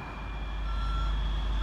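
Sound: tow truck reversing beeps

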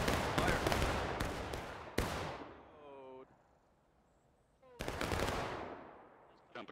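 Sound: musket volley firing in War of Rights video game

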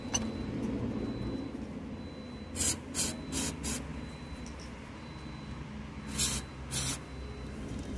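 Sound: spray cleaner sprayed on electrical socket

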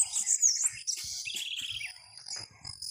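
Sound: small bird singing on a wire at a farm

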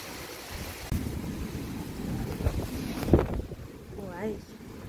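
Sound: strong typhoon wind gusts at night

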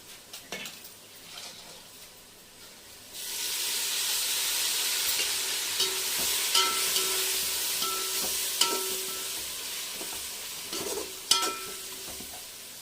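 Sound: sautéing ingredients in pan for mutton biryani

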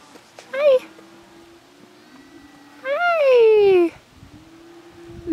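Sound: farm kitten meowing

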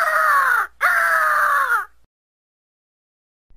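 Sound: bald eagle call

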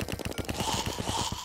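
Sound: gun firing bullets, from the video game Terraria

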